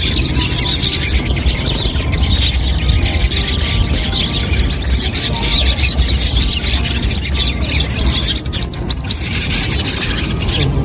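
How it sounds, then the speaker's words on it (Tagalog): Dense chorus of birds chirping and calling, with ducks and pigeons among them, in a Tokyo park during early cherry blossom season, continuous and busy throughout with no clear speech. "Lahat na, ibon, bibe, kalapate."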